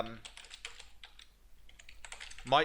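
Typing on a computer keyboard while searching keywords in Ubersuggest, with quick soft key clicks scattered across a couple of seconds, fairly quiet and close, ending in a louder burst.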